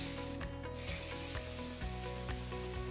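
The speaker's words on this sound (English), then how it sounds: "You want to hear the sizzle" Chicken pieces searing in hot oil in a pan give a steady, loud sizzle with crackling pops, heard close up and alone.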